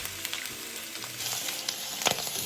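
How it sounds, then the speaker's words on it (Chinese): Pork pieces with garlic cloves, ginger slices, bay leaves and star anise are stir-fried over high heat, a close, continuous sizzle broken by quick scraping tosses and a few sharp spatula knocks against the wok. "然后快速翻炒至肉块均匀上色"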